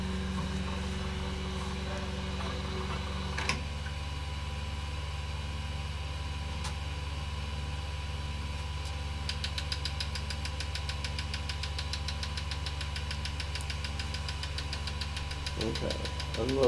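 An Elegoo Centauri Carbon CoreXY 3D printer running auto bed leveling, a steady low machine hum with quiet stepper whirs and faint clicks, close and continuous.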